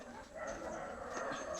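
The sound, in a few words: dogs barking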